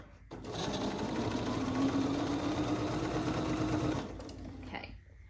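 A sewing machine runs steadily for about four seconds, stitching a quilt block seam, then slows and stops with a few mechanical clicks. The hum is loud and close, with no clear talking.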